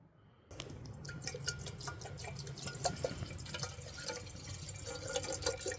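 Water poured into a small pot at a wild camp to make a pot noodle, starting abruptly after a brief silence and then running as a continuous splashing, gurgling pour with bright dripping detail, close and steady.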